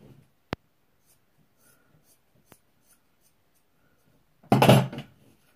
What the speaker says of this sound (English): take your scissors and cut slap down the middle of this top area, all the way down